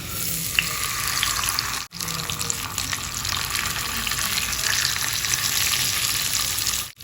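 Masala-coated fish drops onto curry leaves in hot oil, setting off a dense, close sizzle that briefly cuts out and then resumes, crackling steadily on its own.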